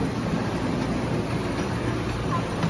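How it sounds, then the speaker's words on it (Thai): Mini train carrying riders to the beach at Sand Dune Chao Lao Beach Resort, giving a continuous, close, moderately loud rumbling drone of wheels and motor that runs unbroken. "รถไฟมินิ"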